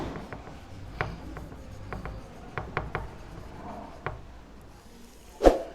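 A pen scratches on paper while someone hand-writes a math justification for a Class 9 number-system lesson, with quiet, close strokes and scattered sharp taps and a louder knock near the end, and no talking.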